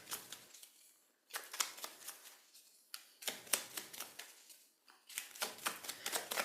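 Tarot deck being shuffled in quick riffling bursts, several rapid flurries of crisp card flicks separated by short pauses, close and fairly quiet.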